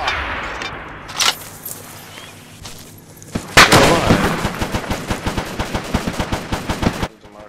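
Gunfire in a video game: a single shot, then a loud, steady automatic burst of evenly spaced rounds that runs for several seconds before cutting off abruptly.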